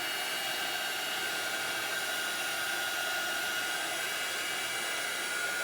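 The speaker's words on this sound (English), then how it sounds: "You've got to be careful with the heat gun though, because you can burn it." A heat gun blows hot air over glass with paint poured on it, a steady close whooshing hiss with a faint motor whine that stays even throughout, and no one speaks.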